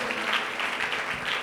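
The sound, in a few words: church congregation applauding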